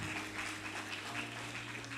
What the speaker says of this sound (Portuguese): Aplaude Ele por isso.